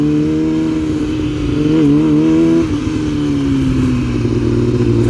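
A Yamaha R6 motorcycle rides in a big empty lot, its engine droning steadily and close with a brief rev in the middle before easing off, no talking.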